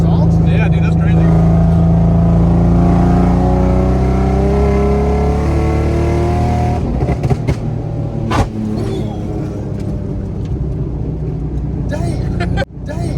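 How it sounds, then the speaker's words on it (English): Exhaust of a lowered Nissan 350Z drift car, a steady loud engine drone with rising revs, heard from inside the car under people talking, then shifting and roughening in the second half. "You hear the exhaust?"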